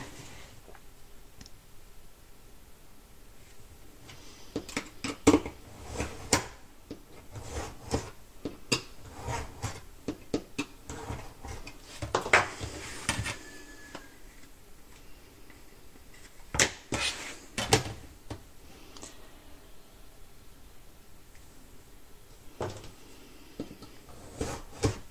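Hand-cutting 2 mm off the board of a handmade baby keepsake box, heard as scattered rasping and clicking strokes with irregular sharp bursts, close and moderately loud, no voices.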